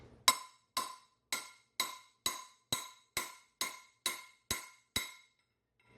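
A hammer strikes a metal drift to drive out a wheel bearing race, about ten evenly spaced ringing metallic taps, close and crisp with short decays, then silence.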